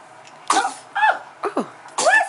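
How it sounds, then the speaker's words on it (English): A baby sneezes several times in a row, small sharp bursts close by, with brief pauses between them. "when she sneezes"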